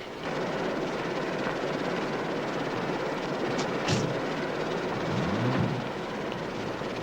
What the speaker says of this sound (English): This is a helicopter.